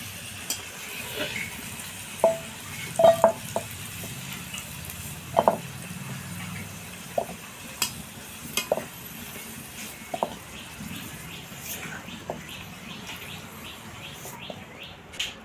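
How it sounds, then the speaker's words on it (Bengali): Potatoes fry in a pan with a faint, continuous crackling sizzle, broken by scattered sharp clicks and scrapes from utensils against the pan, with no voices. "আলুগুলোকে আমি লাল করে ভেজে নিয়েছি এবার আমি তুলে নেব"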